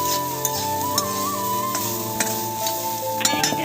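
Banana stem fries in a pan with a constant hiss of oil, broken by sharp spatula clicks and scrapes as it is stirred every second or so. A faint steady tone hums underneath.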